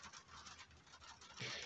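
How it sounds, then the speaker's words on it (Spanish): Rain drums on the roof overhead, a steady soft patter that swells slightly toward the end, faint and continuous without talk. "Les pido disculpas por la bulla de la lluvia arriba"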